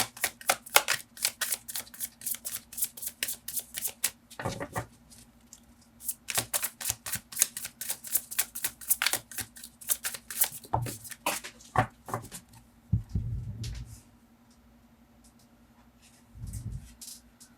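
Tarot cards shuffled by hand in dense bursts of rapid riffling clicks, pausing briefly between runs, close and moderately loud with no talking.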